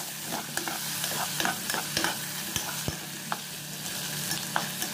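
Potatoes for beef-feet adobo sauté in a pan, with a steady close sizzle broken by scraping stirs and light clacks of the spoon.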